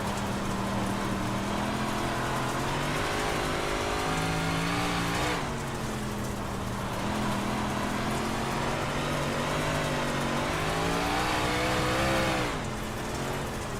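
A big block modified race car in iRacing at Huset's Speedway gives a loud, continuous engine drone whose pitch rises and dips as the throttle changes, with no talking over it.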